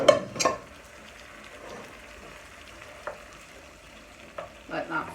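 Steak finishing in a griddle pan on an AGA60 cooker, a soft steady sizzle with a few brief clinks and scrapes near the start and end, no voices.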